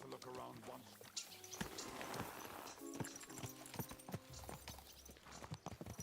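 Horse hooves clip-clop in a steady rhythm in the medieval role-playing game Kingdom Come: Deliverance II, running under ongoing talk and game music.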